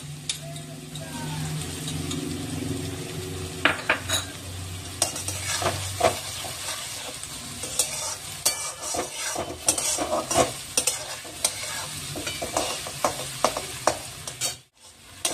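Onions fry with spices in a pan for a dum aloo dish, sizzling steadily while a spoon stirs and scrapes in irregular clicks and knocks. A brief low hum sounds early on, and there is a short drop near the end.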